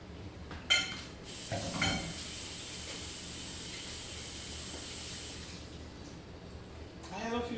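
Liquid poured into a hot pan holding onion slices while cooking jerk chicken gravy hisses and steams in a sustained burst after a pot clank, then stops as utensil clatter and a voice return.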